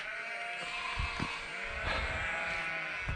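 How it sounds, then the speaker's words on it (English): Sheep and lambs bleating over one another in a noisy, continuous chorus, freshly separated from each other, with several overlapping calls rising out of a crowded farmyard background. "they've separated all the lambs from the sheep, and both parties aren't happy about it, hence the noise"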